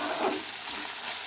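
Bitter gourd and onion frying in white oil, a dense, steady close-up sizzle filling the short moment without pause.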